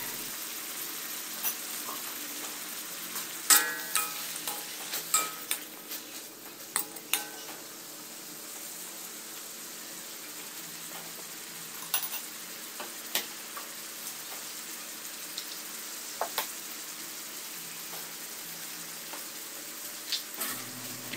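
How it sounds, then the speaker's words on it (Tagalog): Bitter melon (ampalaya) frying in a pan, a steady soft sizzle with occasional stirring clicks and scrapes of a utensil against the pan, close by and with no talking. "habang niluluto natin ang ampalaya"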